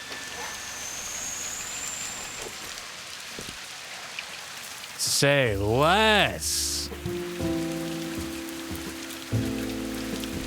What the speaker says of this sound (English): Ooh, raining.